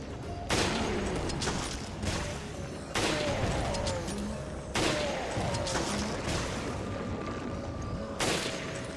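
Loud gunfire in Resident Evil Revelations, with heavy shots roughly every two to three seconds, each followed by a booming tail and debris-like rumble in a continuous, dense combat soundscape.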